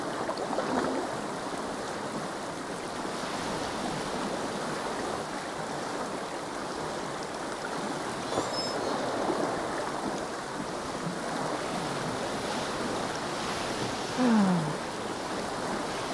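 Water laps and washes continuously in the sailing video game Pancake Sailor, a steady surf-like hiss mixed with wind and a faint creak near the end.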